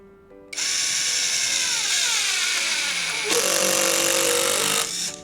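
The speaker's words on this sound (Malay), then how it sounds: "Dia masuk slow dulu supaya skru tu tak terjatuh." A cordless drill on wood mode drives a screw into wood, its motor whining steadily at low speed, then pitching up louder and faster partway through before stopping, heard close and alone.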